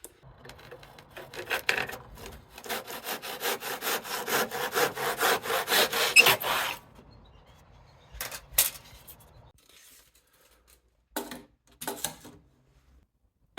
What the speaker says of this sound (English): we'll cut this internal miter on a piece of Coving first